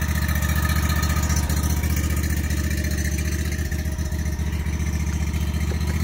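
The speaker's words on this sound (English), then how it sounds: "let's fire that Kawasaki up" A Kawasaki engine runs steadily, close by, with an even low throbbing drone and no change in pace throughout.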